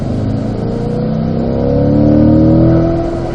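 A race car on the Spring Mountain circuit holds throttle through a corner, its engine drone close and loud, rising gradually in pitch as it pulls out of the bend.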